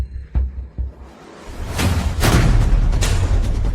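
A door being violently smashed in indoors: a couple of sharp thuds, then a loud, sustained crash with broadband bursts of splintering impact, close and dominant with no talk.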